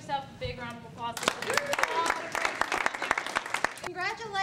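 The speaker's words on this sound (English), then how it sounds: "Guys, just give yourself a big round of applause." An audience breaks into applause: a short voice first, then a burst of dense, sharp clapping from a crowd that lasts a few seconds before fading back under talk.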